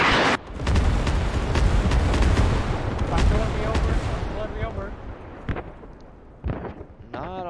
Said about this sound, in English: Not a whole lot of profit for that artillery strike.